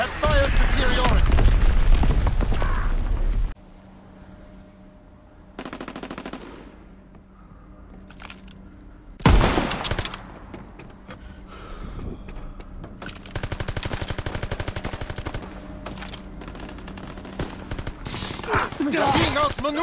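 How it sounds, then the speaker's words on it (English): Machine-gun bursts and heavy booms of mortar fire in a Call of Duty WWII online battle on PS4 Pro: dense loud gunfire at first, then scattered blasts and rattles with quieter stretches between. "Enemy mortar fire incoming."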